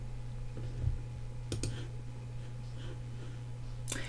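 A computer mouse clicks while working in Cricut design software: a few sharp, isolated clicks spaced over several seconds against a low steady hum, with no talking.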